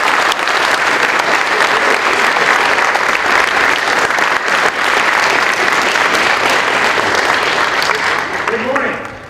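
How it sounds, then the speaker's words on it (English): Sustained loud applause from a large crowd of cadets welcoming Brigadier General Joe E. Ramirez at Texas A&M, dense and steady throughout before tapering at the end. "Please give me applause."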